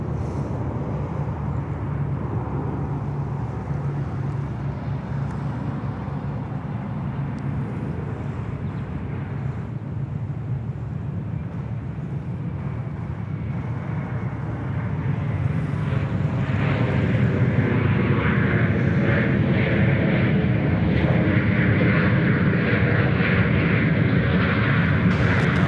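An airliner from Vietnam taking off at Sydney Airport: a broad, distant jet roar that swells and grows louder and richer over about twenty-five seconds, with no voices.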